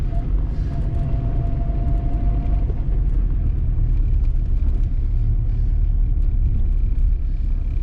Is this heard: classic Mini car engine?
yes